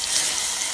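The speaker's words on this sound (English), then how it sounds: "So you add some water" Water is poured into a pot of beef for a home-cooked curry in Kenya, a steady broadband splashing and trickling that runs through the whole short moment without pause, close and moderately loud, with no voices over it.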